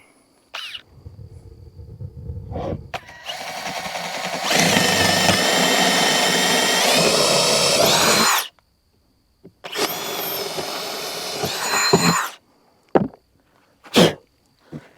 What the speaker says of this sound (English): Drill out these holes.